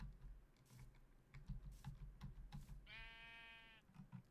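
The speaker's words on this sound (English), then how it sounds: "And I hear a sheep." A sheep bleats once in Minecraft, a clear, wavering bleat of about a second, heard over steady computer keyboard typing and clicking in a quiet room.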